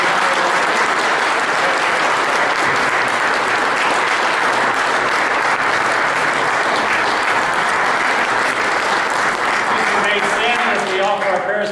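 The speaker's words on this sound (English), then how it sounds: "We have a nice round of applause for Bob." A large congregation at a Sunday Mass applauds continuously, loud and dense throughout, with a few voices faintly mixed in near the end.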